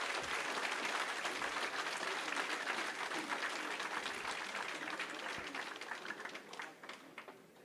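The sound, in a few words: auditorium audience applauding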